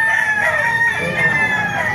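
A rooster crows loudly and close by at a poultry market in Bocaue, one sustained, strained call filling the whole moment.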